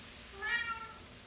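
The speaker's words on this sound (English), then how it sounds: "That's a cat." A cat meows once, a short tonal cry rising and falling over about half a second, close and fairly soft against quiet room tone, with no talk.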